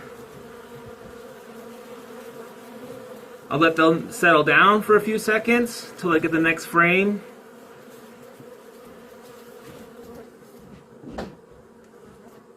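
Dense, steady buzzing of many honey bees close by at an open hive as they are shaken off a frame to boost a weak colony, continuing throughout, with someone speaking over it midway.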